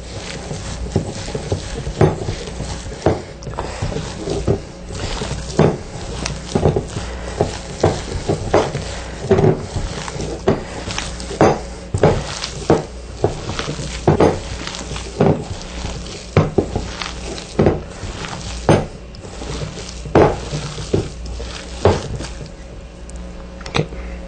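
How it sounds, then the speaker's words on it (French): Kofta meat paste kneaded and squished by hand in a bowl, a steady series of close, wet slaps and squelches repeating at an even pace with no talk. "plus on le mixe comme ça, plus on le mélange, plus elle devient plus notre pâte devient humide"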